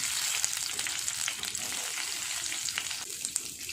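Green chillies, onion and tomato fry in hot ghee with a close, steady crackling sizzle and light stirring scrapes throughout.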